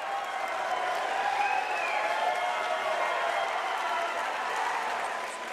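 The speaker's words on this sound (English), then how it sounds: "And the crowd is going crazy." A crowd at a knockout finish of a combat fight cheers and applauds in a sustained, fairly distant roar, with faint shouted voices over the noise.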